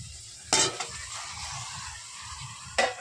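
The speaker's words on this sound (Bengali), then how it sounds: "দিয়েছি আদা বাটা, ধনে জিরে গুঁড়ো দিয়ে কষিয়ে নিলাম। এবারে দিয়ে দেবো এই শাপলাগুলো" Water lily stems going into a pan of frying ginger paste, coriander and cumin powder: a steady sizzle throughout, with two brief clattering stirs of a utensil against the pan.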